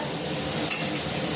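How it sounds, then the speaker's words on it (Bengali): Steady sizzle of prawns frying in a pan, with one brief metallic clink midway; no talking. "আর এদিকে চিংড়ি মাছ হচ্ছে ভাজা"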